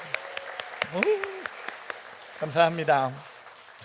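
Congregation applause during a church worship service, a brief scatter of claps heard under someone speaking.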